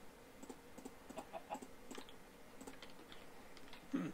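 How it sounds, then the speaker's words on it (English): Soft, faint clucking from a chicken in the Minecraft video game, scattered short clucks over a low hum with light computer keyboard tapping throughout. "Hey look, I captured a chicken."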